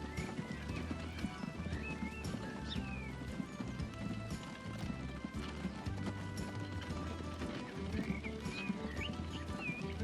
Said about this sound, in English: Look at that horse go.